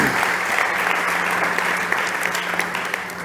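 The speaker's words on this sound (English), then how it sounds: "big applause for Alex" Audience applause for a startup pitch presenter at a competition stage, a dense, steady wash of many hands clapping that holds evenly for a few seconds before thinning slightly.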